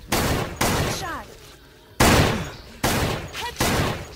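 Gunfire rings out in a zombie video game as headshots land. About five loud, abrupt blasts arrive at uneven intervals, each trailing a decaying rumble, with brief quieter gaps between them.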